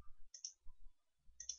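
Two sharp computer mouse clicks, about a second apart, close and quiet, made while saving in a database program during a practice exam, with a faint low thump between them.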